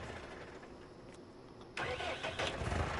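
A farm vehicle engine in a farming video game cranks and catches at the end, a quiet lead-in followed by a sudden mid-pitched engine start settling toward an idle, fairly soft overall.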